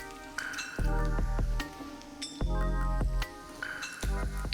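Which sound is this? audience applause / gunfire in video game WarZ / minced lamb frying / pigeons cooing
minced lamb frying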